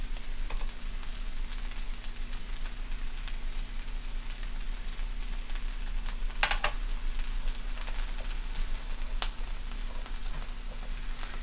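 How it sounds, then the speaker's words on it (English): Garlic sizzling in a hot sauté pan with oil for eggplant caponata, a steady close crackling hiss that runs throughout with a few brighter pops, alone without talk. "Nothing like garlic when it hits that hot pan."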